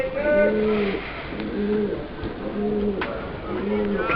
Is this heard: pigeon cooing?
yes